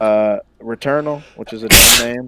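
A single sharp sneeze from a podcast host during a discussion of PS5 game trailers, loud and close, following a stretch of conversational talk.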